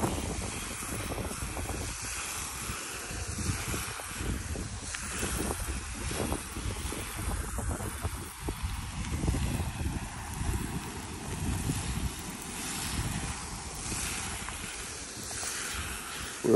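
Steady, buffeting wind on a rooftop, gusting continuously with heavy low rumble and microphone roar throughout, no talk.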